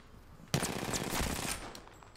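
Burst of rapid automatic fire from a light weapon in Apex Legends, a dense rattling volley lasting about a second and a half before tailing off, close and loud with no talk over it.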